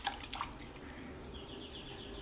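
A little water poured onto potted plants at home, a soft trickling and dripping splash, faint and close, with a bird chirping once or twice nearby.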